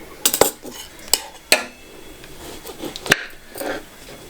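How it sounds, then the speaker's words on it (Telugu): A knife cuts through papaya in a kitchen, giving a few sharp taps and clicks against a board or plate with quiet pauses between them, close and clear. "పప్పాయ కట్ చేసి ఇస్తాను"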